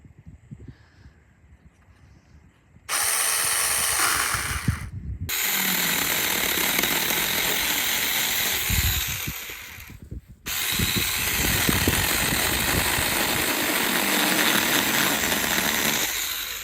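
Chainsaw cutting wood, handled by a first-time user: loud sustained buzzing runs in two long bursts with brief pauses between them and a quieter idle before the first cut.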